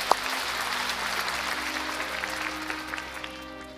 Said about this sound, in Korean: 큰 박수로 축복합니다